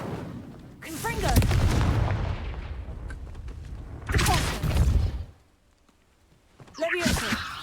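Confringo fiery blast spell from a Harry Potter video game, a loud booming explosion with swooshing debris repeated in three bursts separated by brief quiet gaps, sounding like heavy artillery impacts.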